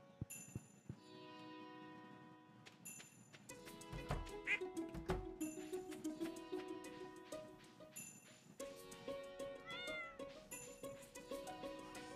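Cats meow repeatedly in the Stardew Valley farming game, several bright, close calls over light game music and chiming effects, with no talking.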